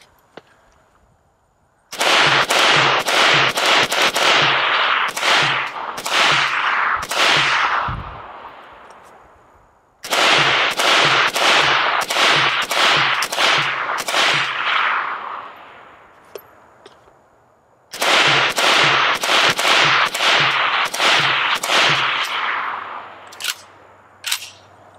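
A Century Arms AK63D AK-47 variant fires in three long, loud bursts of continuous automatic fire, rapid sharp cracks separated by pauses, with a couple of single shots near the end.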